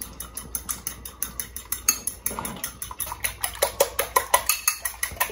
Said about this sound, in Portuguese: A gente mistura aqui os ovos.